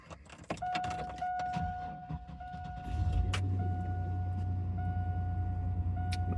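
A 1999 GMC Sonoma truck starting: a key rattles and a chime tones, then the engine cranks and catches into a steady, loud idle rumble.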